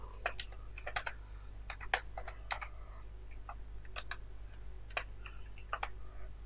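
Quiet, irregular keystrokes tap on a computer keyboard as HTML text is typed, with clusters of clicks and short pauses over a low steady hum, and no talking.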